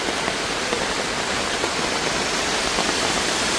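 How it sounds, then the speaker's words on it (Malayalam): Heavy rain pours down steadily outside a fruit shop, a dense, continuous hiss of water with no pauses, close and loud throughout. "ആഹാ, നല്ല മഴ."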